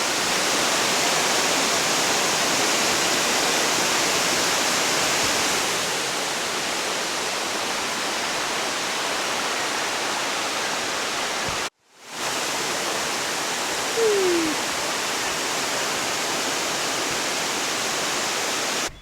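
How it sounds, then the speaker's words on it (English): Steady, broadband rushing of a rainforest waterfall in Far North Queensland, loud and continuous throughout, with a brief dropout partway through. "Turns out there's another waterfall."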